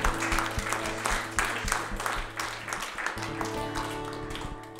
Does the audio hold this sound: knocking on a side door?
no